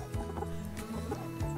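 A two-year-old splash hen clucks in short, soft, repeated calls, close and brief, with a few quick murmuring notes.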